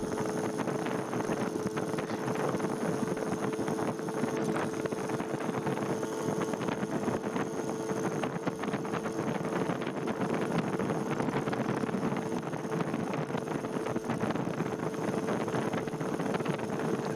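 A Yamaha Towny MJ50 moped engine drones steadily while climbing uphill, a constant buzzing hum mixed with wind rush against the microphone.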